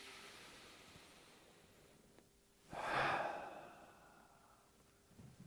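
A single strong breathy exhale during a neck and trapezius relaxation exercise as the shoulders drop, loud and close, rising sharply and then fading slowly over about two seconds in an otherwise quiet room.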